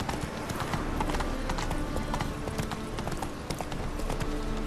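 Geralt's horse Roach trots in The Witcher 3 in rainy weather, its hooves beating a steady, even clip-clop. The hoofbeats sit over a soft wash of ambient noise, with no talk.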